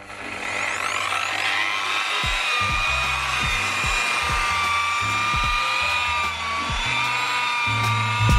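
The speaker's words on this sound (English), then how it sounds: "Right, so this is after the machine polish." A machine polisher buffs car paint using Meguiar's Ultimate Compound on a pad, removing key scratches from a Ford Mondeo. Its steady whirring drone runs loud and close throughout, with slight shifts in pitch as the pad works across the panel.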